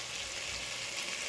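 Beef strips with Asian mixed vegetables, onions and cilantro fry in hot oil, making a steady close hiss of sizzling that stays even and fairly soft throughout, with no voices.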